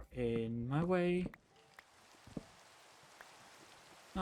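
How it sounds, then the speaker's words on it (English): Steady soft rain falls in the Minecraft video game, a faint even hiss after a voice briefly speaks at the start. "Oh, it's raining."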